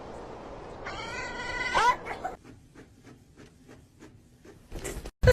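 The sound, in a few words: cat meowing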